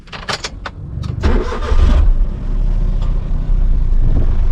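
A modified Suzuki K10 car cranks over with a few sharp starter bursts, then catches and settles into a loud, steady idle close by.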